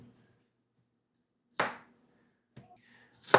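Knife cutting the ends off a sweet potato on a board during meal prep: two sharp, close chopping thuds about a second apart with a quieter tap between, set against a near-silent kitchen.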